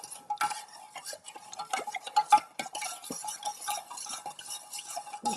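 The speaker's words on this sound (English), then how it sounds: "give it a stir, stir, stir, stir" A spoon stirs a Bloody Mary cocktail, clinking repeatedly against the glass in quick irregular taps and scrapes, close and clear with no talking.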